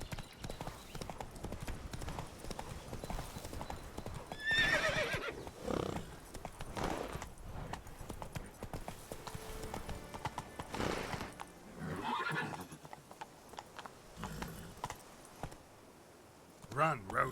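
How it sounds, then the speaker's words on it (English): Horse galloping in the video game Witcher 3, steady rhythmic hoofbeats with a loud whinny partway through, heard beneath a voice talking over the game. "Run, Roach."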